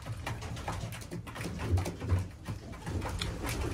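Racing pigeons coo softly in a loft, with low, murmuring calls repeating under a faint background hiss.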